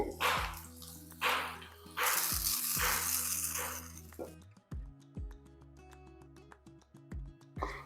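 Sizzling and crackling from a hot pan, with broadband hiss bursts and a steady background drone, the frying loudest in the first few seconds.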